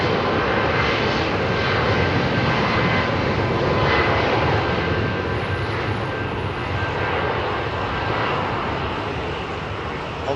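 Airliner jet engines at London Heathrow Airport produce a loud, continuous broadband roar that holds steady throughout.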